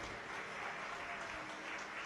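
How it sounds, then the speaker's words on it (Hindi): Steady, dense applause from an audience at a Hindu Shiv Mahapuran katha, a religious discourse gathering; the clapping stays even and full for about two seconds with no voices on top. "एक बार आपके लिए भी जोरदार ताली बजाकर साधुवाद।"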